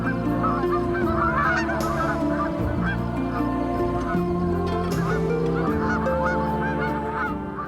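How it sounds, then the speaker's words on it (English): A flock of geese honks constantly in the early morning at a goose hunt, many overlapping calls close by and loud, with no talking. "The serenade of geese in early morning is music to one's ears."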